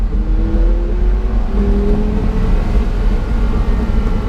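Porsche Carrera GT with a manual gearbox, its engine revving steadily and loud from inside the car, with rising and falling tonal lines of engine pitch over a constant low rumble and no talk.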